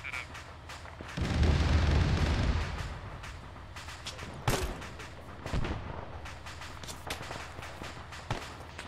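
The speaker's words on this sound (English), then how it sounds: "Smacked it with an AT grenade" An anti-tank grenade bursts in the military shooter Arma 3, a heavy booming blast that rumbles for about two seconds, followed by a few sharper distant cracks and thuds in the background.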